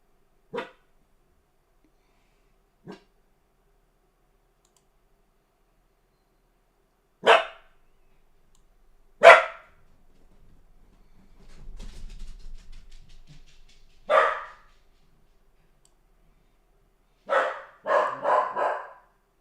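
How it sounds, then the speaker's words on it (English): A dog barks in scattered single yaps, moderately distant, then a quick cluster of barks at the end, with long quiet gaps between. "Barking about something."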